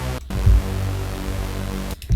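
A spacey, wide brass synth bass, pitched three octaves down for a retro hip-hop beat, holds one deep sustained tone for just under two seconds. Short gaps sit at either end, and a faint hiss runs underneath.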